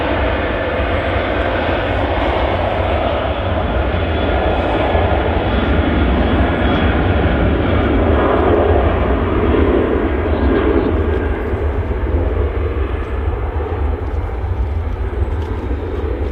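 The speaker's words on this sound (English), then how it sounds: "We got the Aer Lingus A321neo taxiing out as well" An Aer Lingus Airbus A321neo taxiing at Manchester Airport, a loud, continuous low engine rumble and whine that holds steady throughout with faint voices underneath.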